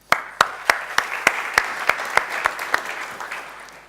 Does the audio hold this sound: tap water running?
no